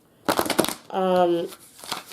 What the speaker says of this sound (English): Oh, long deck to try to bridge shuffle, but I'm going to try again.